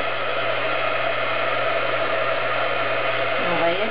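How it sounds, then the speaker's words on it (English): A heat gun blows hot air to melt material before flocking is applied: a steady, loud, close whooshing roar with a constant hum, continuous and unchanging for the whole stretch. "So I'm going to use the heat gun, and I'm going to heat it just enough that it melts it"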